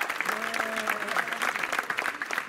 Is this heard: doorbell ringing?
no